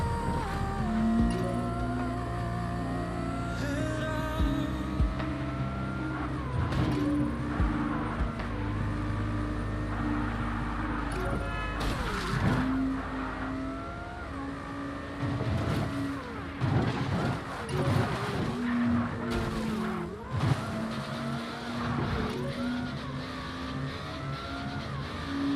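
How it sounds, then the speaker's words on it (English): Cars in a racing game bumping along like bumper cars: sustained engine drone with shifting pitch, tire skids, and repeated impact thuds through the middle, loud and continuous. "I'm just playing bumper cars, letting the other cars steer us through."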